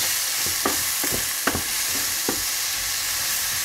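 Carrots and onions sweating in a pan for pork sauté with mustard, a steady gentle sizzle broken by a few short spoon scrapes and knocks, no voices.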